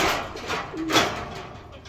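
A pigeon coos a couple of times near a net being readied at a pigeon-keeping spot, the soft calls set against steady outdoor hiss and faint background voices.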